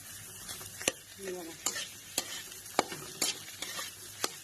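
A spoon stirs and mixes sabudana khichdi in a pan, giving repeated close scrapes and clacks against the metal with a faint sizzle underneath, several strokes spread over a few seconds, and no talking.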